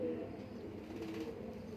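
Soft, low cooing of a racing pigeon kept on a rooftop loft, faint and close, a brief murmuring phrase over quiet background.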